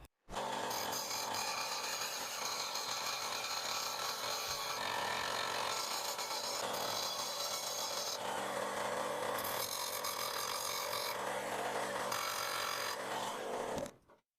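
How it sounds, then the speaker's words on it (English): A machine grinds the burr off a metal tube, a continuous harsh whirring and scraping that runs steadily for about fourteen seconds before cutting off abruptly. "I'm going to turn on the machine and start removing the burr."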